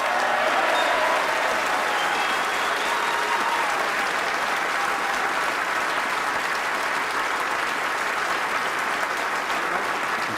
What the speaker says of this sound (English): But Ali, our applause goes to you